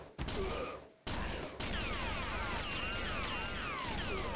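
Rapid gunfire from Virtual Cop 2, an arcade light-gun shooter, with dense repeated shots and metallic ricochet-like whines, a brief lull near the start, then sustained firing to the end.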